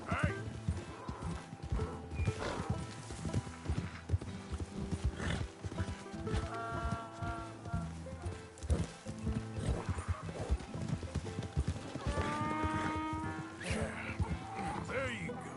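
Hooves clip-clop steadily beneath repeated whinnies from a zebra-like horse mount in Red Dead Redemption 2, with a person talking over it throughout.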